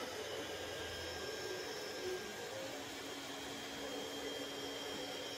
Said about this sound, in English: I've now got the bottom part of that midsection printing.